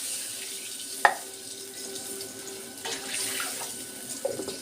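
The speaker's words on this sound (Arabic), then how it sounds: "وهنحط عليها كوبايتين مية،" Water from a cup runs into a pot on the stove that already holds milk and browned garlic, a steady near splash and trickle lasting a few seconds with brief clinks from handling.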